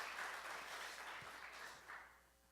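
A church audience claps in a dense wash of applause that is loud at first and gradually fades over a couple of seconds.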